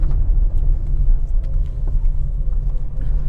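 A car accelerates up to speed on a road test drive, its low engine and road rumble steady and close throughout with no talking.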